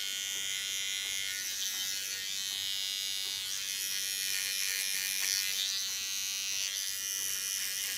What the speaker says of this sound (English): So now I take my clipper, small clipper and a small comb and start on that.